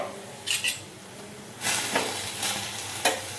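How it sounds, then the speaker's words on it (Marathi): Taroti leaf vegetable stir-fried in a pan with crushed peanuts, a close sizzle broken by several scraping stirs of the spatula, with no talking. "तसं परतून घ्यायचं, 2 मिनिटं शिजू द्यायची भाजी"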